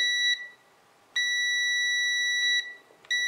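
A pen-type digital multimeter sounds its continuity tester with loud, shrill electronic beeps, one short chirp, then a sustained tone of about a second and a half, then another brief chirp starting, close and clear over quiet background.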